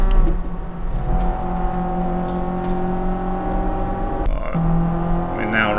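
Race car engines in the Assetto Corsa sim racing game, including a Dodge, whining through gears and rising and falling in pitch as they shift and pass close by, with a sharp change near the end.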